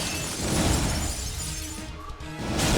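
An enemy break shatter in the mobile game Dissidia Final Fantasy Opera Omnia, a loud crashing burst of breaking glass that fills the whole moment, then dips briefly before a fresh surge of game noise at the end.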